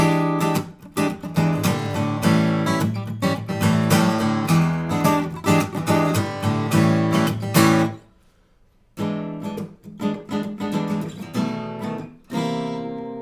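An unplugged Yamaha TransAcoustic guitar with effects off is strummed and picked with bright, dry chords, then pauses briefly before a few more plucked notes ring out.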